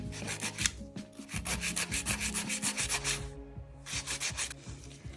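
A nail file rasps back and forth over a gel nail built on a form, in quick rhythmic strokes, close and clear, pausing briefly midway before the filing resumes, with no voices.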